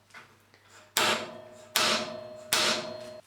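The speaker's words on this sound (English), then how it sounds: "I'm just going to centre punch a mark on there." A hammer strikes a centre punch on 5 mm mild steel three times at an even pace, each a sharp, close metallic crack ringing briefly before the next, with faint handling taps beforehand.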